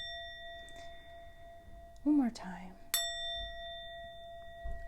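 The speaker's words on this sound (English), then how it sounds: "I want to use a sound bell." A sound bell rung to cleanse the space before a tarot reading hums with a sustained, clear ringing tone. A voice speaks briefly, then the bell is struck again with a bright strike and its ring carries on.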